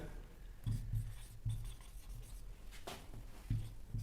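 Chalk or marker strokes on a board during a class 7 math lesson, a few short scratchy bursts with pauses between them in a quiet room.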